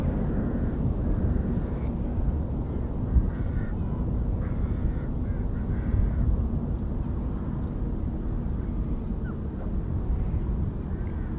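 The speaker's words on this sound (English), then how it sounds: "it's always nice to see them take off." An F-35B stealth fighter jet takes off at an RAF air station, a steady, broad, roaring rumble heard from a distance that holds without a break.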